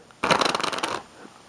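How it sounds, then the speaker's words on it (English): A quick riffle shuffle of playing cards, a dense burst of rapid flapping clicks lasting under a second, close up with no talking. "you could give it a few shuffles"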